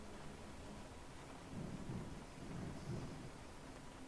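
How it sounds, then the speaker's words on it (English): Rain in the Train Simulator Classic game, set on the Glasgow Subway, a steady dull hiss with low rumbling thunder swells rising in the middle, heard without talk. "I hear rain. There's the rain."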